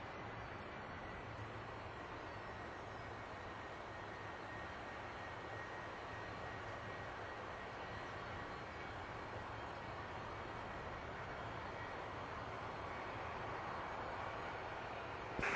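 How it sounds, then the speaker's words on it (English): The left jet engine of a Boeing 757 keeps running, a steady, faint, broadband roar that holds unchanged throughout with no other sounds over it. "you do realize the left engine is still running, will be still running"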